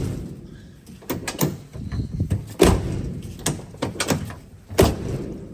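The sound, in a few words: pickup truck door shutting against new door seal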